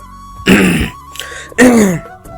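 Two short, forced coughs, like someone deliberately clearing their throat, separated by about a second of quiet.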